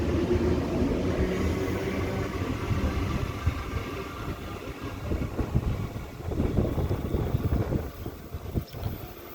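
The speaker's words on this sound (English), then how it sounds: "It is windy, of course." Gusty wind buffets the microphone on a station platform at Denistone, low rumbling blasts that swell and drop unevenly, with faint rail rumble underneath and no talking.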